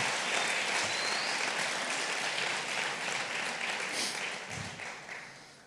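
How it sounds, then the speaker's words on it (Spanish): A church congregation applauds warmly, a broad wash of clapping that holds steady and then fades away near the end. "Dale fuerte el aplauso al Señor hoy."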